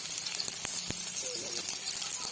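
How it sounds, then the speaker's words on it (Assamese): Fish frying in a pan sizzles with a steady, even hiss, with a few small taps and a faint voice in the background. "এয়া মাছ ফ্ৰাই কৰি থকা হৈছে ভণ্টিয়ে মাছ ফ্ৰাই কৰিছে"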